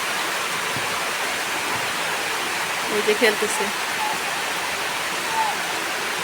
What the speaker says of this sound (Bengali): কি পরিমাণে বৃষ্টি নামতেছে আর এই বৃষ্টির মধ্যে খেলতেছে